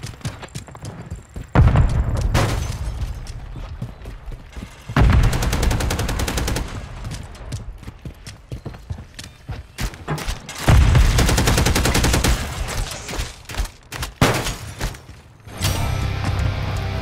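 Gunfire in Call of Duty Modern Warfare 3 multiplayer, loud bursts of rapid automatic fire and heavy shots coming in several clusters, with quieter clattering and ambient game noise between them.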